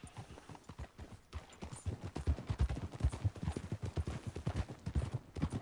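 Horse hooves clip-clop in a steady walking rhythm in a ranch-riding video game, close and clear, building slightly in loudness and continuing without interruption and with no speech.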